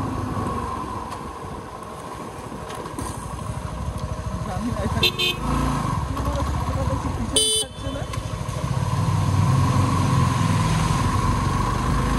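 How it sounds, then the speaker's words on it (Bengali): A vehicle honks behind a motorcycle on a road trip through rural Bankura: the bike's engine drones steadily up close while a couple of short horn blasts sound briefly in the middle, with wind rumble throughout. "এই গাড়িটার বহুত তাড়া, তখন দেখ পিছনে হর্ন মারছে।"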